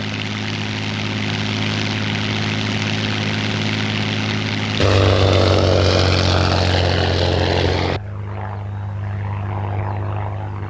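Hawker Hind biplane propeller engine in flight, a steady droning hum with a sudden louder, rougher surge partway through before dropping back to a quieter drone.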